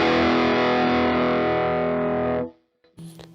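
A heavily distorted electric guitar plays the riff from a song at a slowed-down pace, thick and loud, then cuts off abruptly with a brief pause and a short strum or pick noise at the end.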